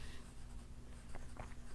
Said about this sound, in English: And you can see I'm using the side of my pencil. I'm not pushing down hard. I'm drawing very lightly.